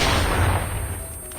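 Gunfire from the Chicom gun in Call of Duty Mobile, a dense, loud burst of rapid shots filling the whole moment with no talk.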